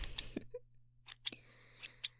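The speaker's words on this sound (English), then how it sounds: "They're getting a little hard to open and close, so I'm gonna need to get some new ASMR scissors." Worn ASMR scissors snipping open and shut close to the ear, a few crisp separate blade clicks and scrapes spaced across a quiet background with no talking.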